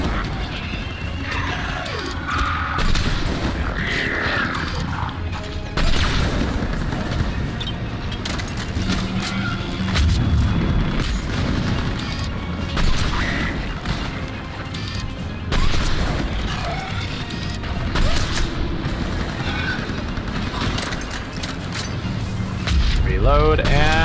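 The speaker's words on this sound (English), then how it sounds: "We're taking heavy fire from the second story." Video game gunfire with crashes and booms throughout a busy firefight, dense and continuous, under voices calling out over the action.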